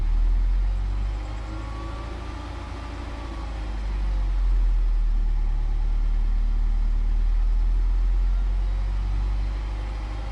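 A car engine runs steadily while driving, a vehicle diagnosed for reduced oil pressure and camshaft implausible signal faults, giving a constant low rumble with road noise that swells slightly partway through. No one talks.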